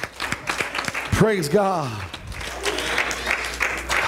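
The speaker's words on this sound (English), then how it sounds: "Why don't we give God one more hand clap of praise and love and just excitement." A church congregation claps hands in praise, a broad burst of applause that swells after a spoken exclamation and carries on steadily beneath the room's voices.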